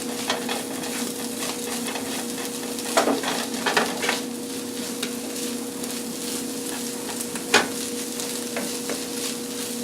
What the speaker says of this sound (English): I'm gonna go ahead and add my green onion in there.